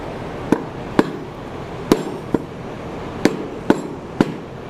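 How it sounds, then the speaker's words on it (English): A wooden hammer carved from a tree knot straightens twisted metal in a set of flat twists: seven dull, separate thumps at uneven intervals against a steady background hum, close, with no talking. "this wooden hammer is a great way to go"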